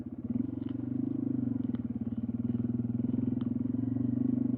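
A small motorcycle rides slowly along snowy snowmobile trails, its engine a steady, close, loud chugging drone with a fast even pulse and a few faint clinks.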